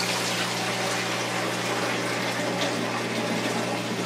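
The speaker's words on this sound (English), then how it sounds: "You want to add the water carefully" Water poured carefully into a DIY reef tank sump chamber makes a steady, continuous rushing gush, close and even in level from start to finish.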